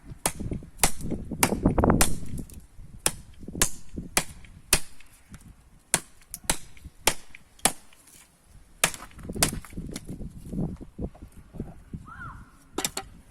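Knife blade chopping an old, very dry acacia stake, a series of sharp, loud wooden chops in an irregular rhythm, close by, with soft rustling between strikes.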